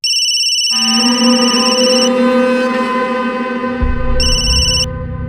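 A phone rings from an unknown number with a loud electronic ringtone, a bright repeating tone pattern over sustained musical notes, close and continuous with a brief pause mid-clip before the ring resumes.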